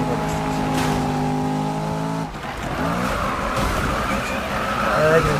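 A Porsche engine in the video game Need for Speed revs steadily with a tonal whine, then drops briefly before roaring again with tire squeal and rising acceleration, under occasional talk.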